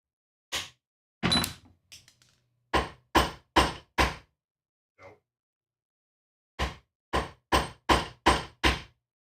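Hammer blows drive rivets into a leather armor cuirass, loud sharp strikes in two bursts: two single hits, then a rapid run of five, a faint tap, and another quick series of six evenly spaced blows.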